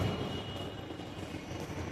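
Metro train at a station platform gives a steady, low rumbling roar with a faint high whine, constant and moderately loud, with no voices.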